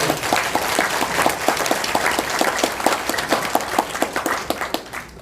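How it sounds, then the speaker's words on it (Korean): Audience applause at a Korean political debate forum, a dense, steady round of clapping from a crowd that holds throughout, with a few sharper individual claps standing out. "박수 한번 주시죠."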